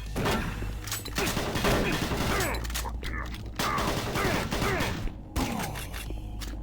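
Shotgun fire in the video game Doom 3: a loud, dense run of gunshots and mechanical clatter, with booming blasts and pump or reload noise layered together, near and continuous without speech.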